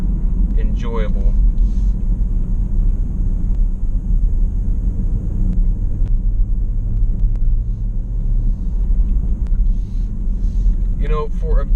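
A 2015 Jeep Grand Cherokee SRT climbs a curvy road, its engine and tires making a steady low rumble inside the cabin with some wind noise, while a voice briefly speaks at the start and again near the end.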